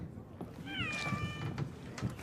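A customized Palico cat companion in the video game Monster Hunter World gives a drawn-out meow over steady game background sound and low voices.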